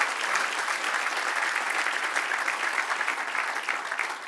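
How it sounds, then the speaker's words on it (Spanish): A church congregation applauding, dense and continuous clapping from many hands that fills the space evenly from start to finish. "Dele otro aplauso al que reina."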